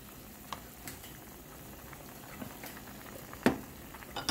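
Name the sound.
poa fish curry gravy boiling down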